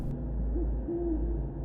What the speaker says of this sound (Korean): 어디선가 들려오는 구슬픈 부엉이 울음소리가 고요한 정막을 갈랐다.